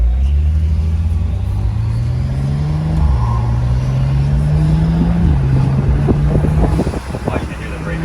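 A 2012 BMW 135i drives with its exhaust giving a continuous low rumble that steps up in pitch as it pulls through gears, with faint crackles near the end; nobody speaks.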